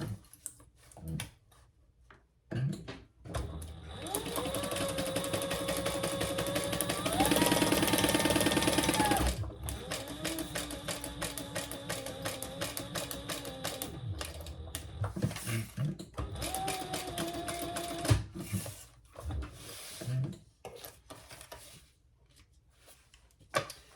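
A sewing machine stitches a crossbody clutch seam in a long steady run of rapid needle ticks, pausing briefly for a 90-degree turn before resuming, close and fairly loud.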